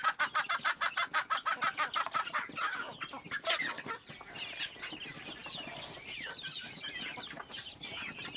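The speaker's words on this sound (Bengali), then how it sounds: "এইগুলো কিন্তু আমার বাচ্চা এবং বড় মুরগি এবং মোরগ" Desi hens, chicks and roosters in a backyard flock cluck in a quick, regular rhythm close by, then break into scattered chirps and clucks from several birds, with no talking.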